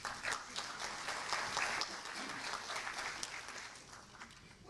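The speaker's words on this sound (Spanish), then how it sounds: "Lo recibimos con un fuerte aplauso al doctor." An audience at a legal conference in Lima with judges present gives a sustained round of applause that stays soft and distant, a dense patter of many hands that tapers off slightly toward the end.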